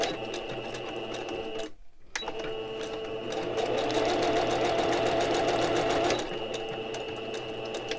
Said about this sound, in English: I'm going to use my guide on my presser foot to sew along that edge